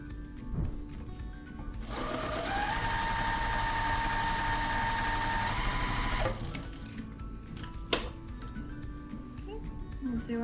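A sewing machine stitches a full row of a brick-pattern beginner quilt, its motor whirring steadily for several seconds after a short start, then stopping, with a sharp click near the end and a voice talking around it.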